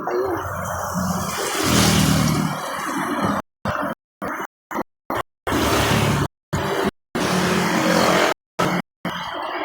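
A motorcycle engine runs as it rolls into a roadside vulcanizing shop, a rough continuous rumble that rises and falls, broken by abrupt silent gaps.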